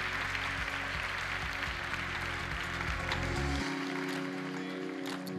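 Audience at a sports award gala in Mijas claps for a sports promotion prize, sustained applause over a low musical backing that cuts out near the end, moderately quiet and steady.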